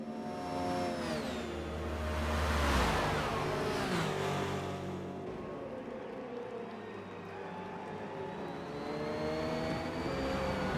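Ferrari and Porsche race cars battle in a Le Mans video game race, their engines whining and droning at steady high revs, with one car sweeping past loudly before the pitch falls away as another engine note carries on.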